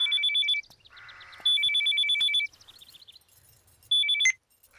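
A telephone rings on an incoming call in a Bhojpuri film scene: three loud electronic bursts of chirping tones, each separated by a short quiet gap, heard alone with no voices.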